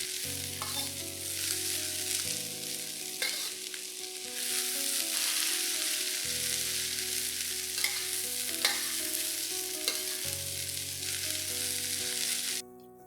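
Shredded cabbage and dried shrimp being tossed and stir-fried in a hot pan, a continuous loud sizzle with scraping stirs and occasional sharp clinks, over steady background music.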